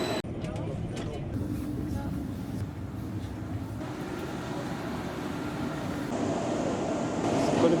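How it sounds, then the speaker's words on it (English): A train passes by the tracks in Oslo, a steady broadband rumble that swells toward the end, with a person talking over it. "There is the train."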